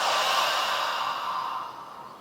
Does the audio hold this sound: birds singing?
no